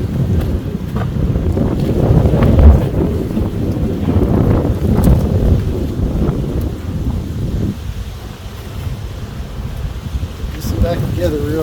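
Wind buffets a microphone outdoors during a spring beehive inspection, a loud continuous low rumble that swells and eases for several seconds, with brief handling sounds near the end.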